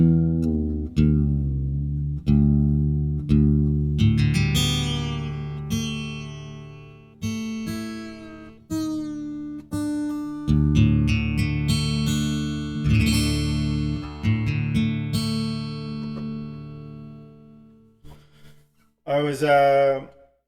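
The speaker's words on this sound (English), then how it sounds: "I gotta tune this down for the last song." Guitar strings plucked one at a time with pauses, each note ringing and decaying as the guitar is tuned down, alone with no talking.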